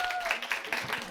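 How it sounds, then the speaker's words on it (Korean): Brief, light audience clapping welcomes a professor lecturing on Christian classics at a school's autumn parent-education session, with some chatter mixed in beneath the claps. "여러분 따뜻한 박수로 환영하겠습니다."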